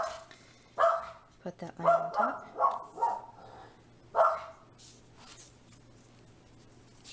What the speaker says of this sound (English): I'm so sorry that she barks like that on my videos.